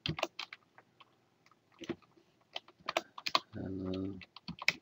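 Typing on a computer keyboard sounds as a string of close, crisp key clicks in irregular bursts, with a short buzzy low-pitched hum partway through.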